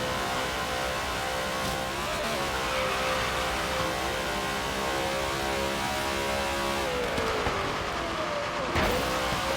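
Nissan GTR racing in the Forza Horizon game, a steady loud engine drone with shifting pitch that sweeps downward near the end, no talking.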